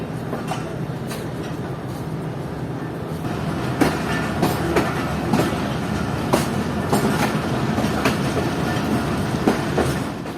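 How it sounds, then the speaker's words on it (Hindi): The Karachi Express rolls along as it gathers speed, its wheels beating a steady clickety-clack over rail joints, with a constant rumble and occasional sharp metallic clicks heard from on board, loud and continuous, with no talking. "हमारी ट्रेन थोड़ा सा तेज़ हो चुकी है"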